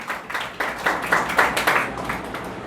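A church audience at a sermon claps loudly in a steady rhythm, about ten sharp, evenly spaced beats of a room full of hands, with no talking.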